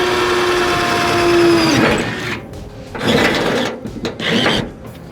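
Power drill boring through a car floor mat while removing a Chevrolet Nova fender, a whirring motor that bogs and revs in short bursts, close by with no talking.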